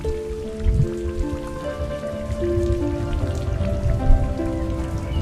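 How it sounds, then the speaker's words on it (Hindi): Raindrops fall in a steady, moderately loud patter, layered under soft sustained music tones. "इन बारिश की बूंदों से"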